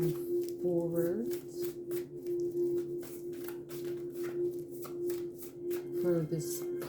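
Tarot cards being shuffled in a steady riffling patter, close and continuous, with a sustained tonal hum and a voice talking over it.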